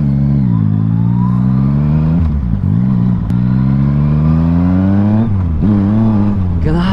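Yamaha XSR900 motorcycle engine revving loudly up and down, a steady harmonic drone with pitch climbing and dipping through several throttle blips, close and continuous with no talk.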